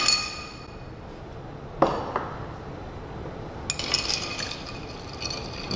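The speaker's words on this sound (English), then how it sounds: "Gonna go ahead and add our ice to it." Ice goes into a cocktail glass for a bourbon drink, giving a sharp clink and then a cluster of lighter glassy rattles and pings against quiet room noise.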